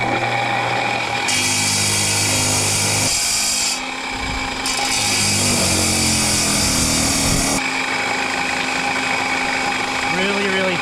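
A power saw grinds through a small rock, taking two thin slices in long, steady, loud cutting passes separated by brief pauses, with a person talking between cuts.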